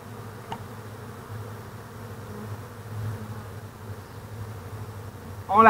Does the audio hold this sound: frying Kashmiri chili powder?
no